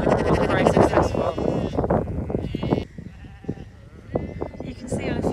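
Sheep on a farm bleat repeatedly and close by, several overlapping calls in quick succession with a brief quieter gap, while a person talks over them.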